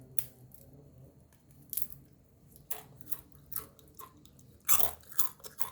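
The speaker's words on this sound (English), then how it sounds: "I will show you the crunchiness" Crispy fried potato peel chips being bitten and chewed close up, a series of irregular sharp crunches spaced over several seconds against quiet background, with no talking.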